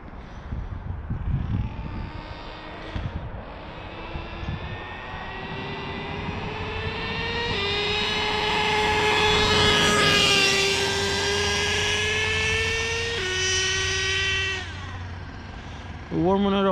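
An HPI Savage GT-6XL nitro RC car, modded with an LRP .32 engine and Raptor pipe, warms up with a high, buzzing whine that climbs and steps in pitch, rising louder mid-clip before dropping off near the end.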